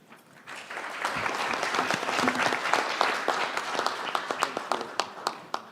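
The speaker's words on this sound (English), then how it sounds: "thank you so much, participants, for applauding Joy" Participants at an annual congress applaud a speaker, a dense burst of clapping that swells, holds, then thins into scattered individual claps as it fades.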